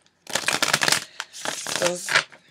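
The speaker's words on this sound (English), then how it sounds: "for these little quick readings, it's no big deal for me to shuffle" Tarot cards are shuffled in several quick riffling bursts, close and crisp, with short pauses between them.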